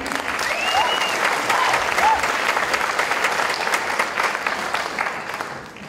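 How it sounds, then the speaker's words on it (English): Concert audience in a church setting breaks into applause, a dense, steady round of clapping lasting several seconds before gradually thinning out. "Can I have a round of applause for yourself"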